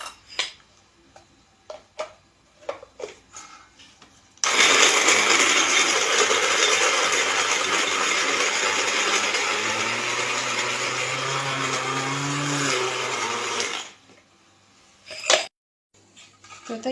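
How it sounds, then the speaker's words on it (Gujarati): An electric grinder blends green chutney of hot chillies, mango, mint, sugar and salt: a steady loud whirring motor runs for about nine seconds, then cuts off, with a few clicks and knocks before and after. "અને હવે આમાં ખાંડ મીઠું નાખી અને મસ્ત પીસી લઈએ અને સરસ ગ્રીન ચટણી બનાવી લઈએ."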